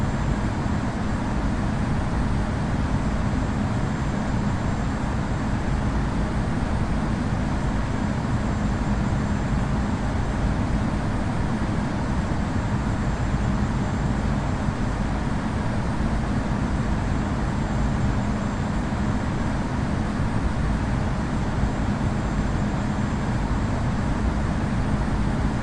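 Air New Zealand A320 in the Infinite Flight game rolling for takeoff on runway 16, a loud steady jet engine roar that holds constant and broadband throughout, with no voices.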